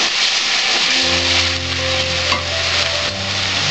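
Water hits hot frying spice masala for ghugni in a pressure cooker, a steady loud sizzle with a low rumbling boil rising underneath and a brief clink partway through, no voices.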